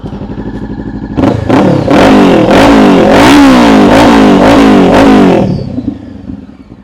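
A 2017 Honda CBR500R fitted with an SC Project exhaust idles, then gives a run of sharp, loud throttle blips over several seconds before settling back to a steady idle. The bike is close by and no one speaks.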